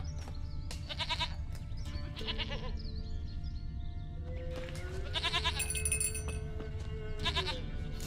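A goat in The Witcher 3 game bleats repeatedly in short wavering cries, close and clear, with a few bursts over a steady background hum.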